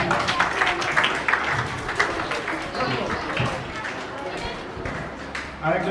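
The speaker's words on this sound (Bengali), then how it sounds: "জোরে হাততালি দেবে ওদের জন্য" A crowd applauds students at an Independence Day school event, a steady patter of many hands clapping that goes on under people talking.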